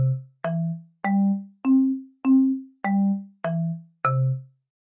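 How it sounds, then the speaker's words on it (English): A synthesized marimba voice in Chrome Music Lab's Song Maker plays eight clean mallet notes at a steady walking pace, each a round, woody tone that fades quickly, rising and falling slightly in pitch with nothing else heard. "We have the option of a marimba"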